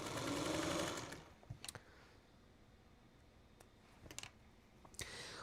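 A sewing machine stitches a log cabin quilt block in a short close burst, then falls silent amid a few faint clicks and taps, with another brief run starting at the end.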